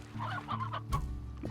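Roostro chickens in the video game Slime Rancher cluck in short, moderately close bursts, a few clucks spaced across the moment with a low game ambience underneath.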